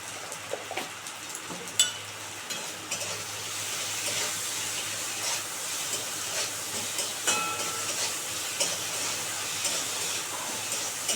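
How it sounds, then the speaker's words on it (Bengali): Potatoes and onions seasoned with salt and turmeric fry in a pan with a steady, close hiss of sizzling oil, broken by scattered clicks and scrapes of stirring, and no one speaks. "আচ্ছা, এটা এখন ভালো করে ভেজে নেবো"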